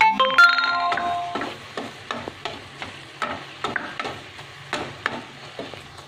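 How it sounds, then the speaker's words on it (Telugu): Okra and mushroom curry is stirred in a pan, with a close series of rhythmic scraping and clacking strokes over a low sizzle and a brief electronic tone at the start. "బాగా కలుపుకోవాలి కొద్దిగా కింద పైన కలిపితే బెండకాయ బంక రాకుండా ఉంటుంది"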